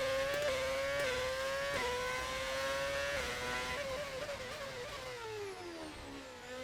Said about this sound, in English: V8 sound pack, we are using mods, yeah.